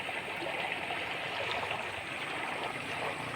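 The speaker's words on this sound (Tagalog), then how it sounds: "Napakalakas ng tubig." Water rushes steadily in a stream, a continuous broadband hiss of flowing current, moderately loud and close with no voices.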